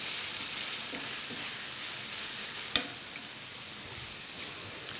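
A vegetable and chicken filling sizzles steadily in a frying pan, a soft continuous hiss with one sharp tap of a utensil against the pan partway through.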